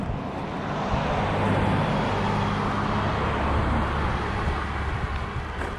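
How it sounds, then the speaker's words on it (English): Loud cars whizzing by on a highway, a continuous broad roar of traffic that swells slightly as vehicles pass close by. "you guys aren't gonna be able to hear me over the loud cars whizzing by on this highway"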